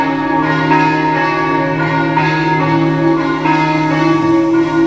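Church bells ring continuously in a convent, a loud, sustained metallic peal with overlapping tones and no voices heard.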